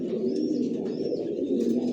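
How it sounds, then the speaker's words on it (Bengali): Racer pigeons of a single original Johnson long line coo steadily in a rooftop loft, with soft overlapping calls forming a continuous close murmur and a few faint chirps above it. "আমার লফটে সব একই লাইনের কবুতর পালি"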